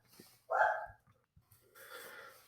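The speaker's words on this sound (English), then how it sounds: "You hear my dog in the background barking probably." A dog barks once, fairly clearly, in the background, followed by a softer snort or breathy noise, with quiet surroundings in between.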